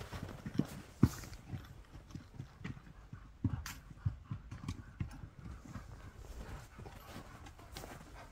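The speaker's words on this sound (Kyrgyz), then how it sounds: "Өтө күлүк жеңил жылкы экен Тилек" A light, fast racehorse gallops over icy, frozen ground, its hoofbeats landing as quick, faint clip-clops with a few sharper knocks against a low background rumble.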